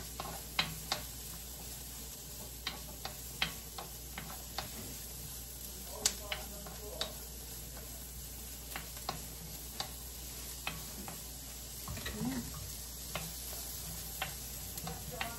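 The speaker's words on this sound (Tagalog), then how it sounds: "Gigisa ko lang po ito ng mga 2 minutes." Beef and onions sautéing in a pan, a soft sizzle under sharp, regular ticks and taps of a utensil against the pan, with a voice talking at times.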